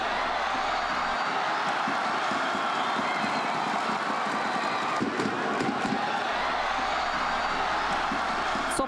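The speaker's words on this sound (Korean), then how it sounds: "서포터들은 힘찬 응원가로 응원을 이끌어 나갔습니다." Ulsan football supporters fill Munsu Football Stadium on a weekday evening, a roaring crowd of about 22,000 sustaining a loud, continuous wash of cheering and chanting throughout.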